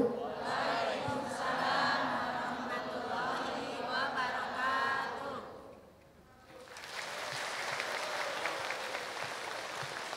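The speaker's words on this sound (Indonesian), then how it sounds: "Sekali lagi tepuk tangan untuk Hadro Al Azhar BSD." An audience claps and cheers for a hadroh group performance at Al Azhar BSD, a sustained wash of applause that fades around the middle, then a second round of clapping swells back up, with a voice speaking over it.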